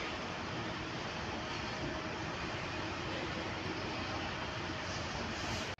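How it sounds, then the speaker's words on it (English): Airport train arriving at San Francisco Airport, a steady, loud rushing rumble with a faint tonal whine that holds throughout before cutting off abruptly at the end. "The train is coming now. The train, here it is."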